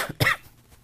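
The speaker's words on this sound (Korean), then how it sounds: "제가 좀 기침이 있어서요." A single adult cough, close and dry: a brief catch in the throat followed by one sharp, forceful burst that quickly fades into a quiet room.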